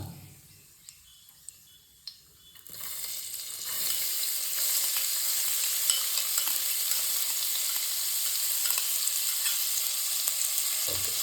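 Chopped onions drop into a pan with cumin and start frying, a quiet scrape and a few clicks giving way to a loud, steady sizzle with occasional stirring that continues to the end.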